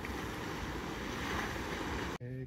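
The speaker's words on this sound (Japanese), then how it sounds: "玉川温泉の源泉です。 すごいお湯の量です。" Hot spring source water at Tamagawa Onsen gushing out in a large volume like a river, a loud dense continuous rush that cuts off abruptly near the end.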